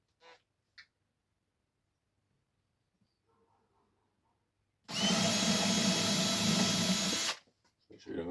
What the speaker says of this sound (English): You don't want to drill through.